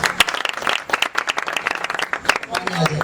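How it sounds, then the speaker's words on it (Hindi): A congregation at a Faisalabad prayer meeting claps loudly for Jesus, a brisk, dense burst of many hands, close and steady across the short stretch, with a voice talking over the clapping. "जोरदार तालियां यीशु के लिए।"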